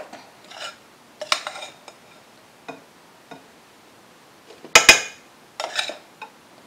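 Marble cake batter being stirred with the flour mixture in a bowl: scattered scrapes and light clinks of utensil against bowl, with sharp knocks near the five-second mark, alone with no talk.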